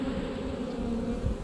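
Honey bees drone in a steady, close buzz around an open hive, alone and continuous.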